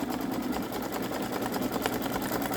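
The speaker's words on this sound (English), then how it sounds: "So now it will do the satin stitch all the way around." Babylock Solaris embroidery machine stitching a satin stitch around a design on metallic vinyl, a steady, close mechanical whir with rapid needle rhythm running continuously without pause.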